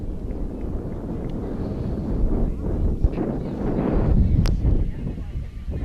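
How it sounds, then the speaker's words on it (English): Wind gusts buffet the microphone at an outdoor 12U youth baseball championship game, a broad low rumble that swells and surges, loudest around the middle and end, under faint background sounds. "you can hear the gust of wind coming in"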